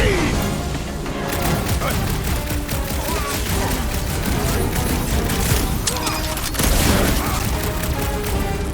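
A smoke rocket fires during a loud melee in Marvel's Guardians of the Galaxy, buried in a dense barrage of booms, gunfire and crashing impacts that never let up.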